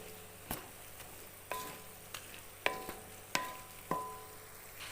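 A spoon stirs crab curry cooking with kudampuli in a pan, giving a quiet, faint sizzle punctuated by about six sharp metallic clinks and scrapes at irregular intervals.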